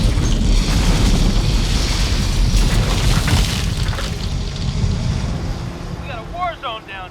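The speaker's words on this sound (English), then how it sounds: "a pyrotechnic symphony that ends with a building explosion." A real building explosion in a film scene produces a heavy, sustained rumbling roar with wind-like blast noise that slowly fades, followed by faint high chirping at the end.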